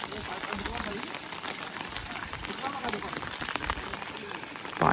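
Heavy rain pours steadily over a Konkan village, a dense, constant hiss of drops striking surfaces, loud and close throughout, with faint voices underneath.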